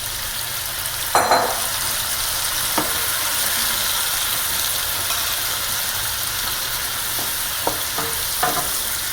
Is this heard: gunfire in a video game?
no